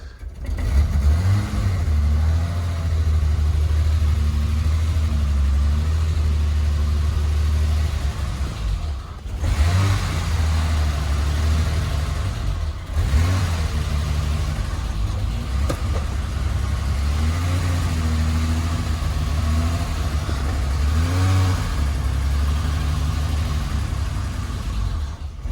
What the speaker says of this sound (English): The engine otherwise runs really nice.